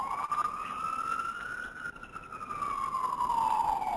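A single siren wails continuously through a participant's open microphone during an online webinar, its pitch rising and slowly falling, loud and steady without speech.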